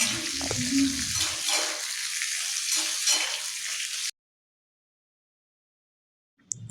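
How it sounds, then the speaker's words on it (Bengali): Potatoes and kohlrabi fry in hot oil in a pan on a gas stove. A loud, bright sizzle with some bubbling sounds up close for about four seconds, then cuts to near silence, and no one speaks. "তেলটা গরম হয়ে গেছে, এবার আলু এবং ওলকপিটা তেলে দিয়ে দেবো।"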